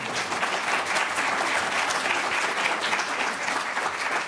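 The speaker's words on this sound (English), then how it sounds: "Can we have a round of applause?" Audience applause after a debate on school segregation: sustained, even clapping from a full hall, steady and moderately loud for over four seconds without talk.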